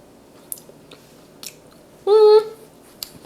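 Soft chewing of a small taste of eggplant rollatini cheese filling, with faint mouth clicks and smacks close by, then a short sustained voiced sound near the end.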